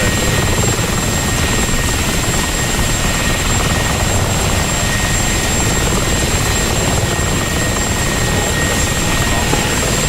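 A Huey helicopter in the DCS video game flies with a loud, steady rotor and turbine roar that stays constant and close for the whole stretch, with no break.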